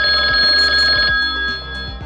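A telephone ringing effect: loud, rapid electronic bell tones that trill steadily for about a second, then drop to a softer, thinner ring that lingers to the end, with no voices.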